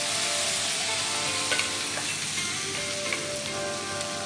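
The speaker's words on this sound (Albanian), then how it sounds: "Tani do të shtojmë verën e bardhë." White wine poured into a pan of sizzling rice, mushrooms and onion cooked in oil and butter, giving a soft continuous fizzing sizzle with occasional stirring clicks, close and moderately quiet, no voices.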